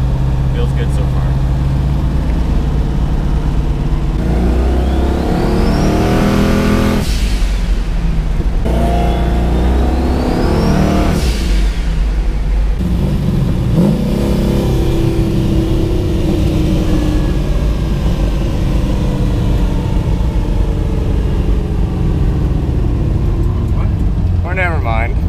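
A twin-turbo LS-powered Chevrolet Nova accelerates hard during roll racing at Powercruise USA, a loud, close engine roar with rising turbo whine sweeping up twice, then settling into a steady rumble.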